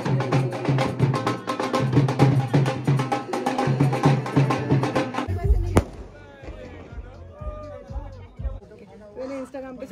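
Fireworks burst at a Mehendi night wedding celebration in a dense run of crackling, popping explosions. Deeper booms follow as the barrage thins, with people talking throughout.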